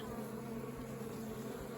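Honey bees at an apiary beehive, with some dead or damaged bees near the entrance, make a steady, close, continuous buzzing hum that does not let up.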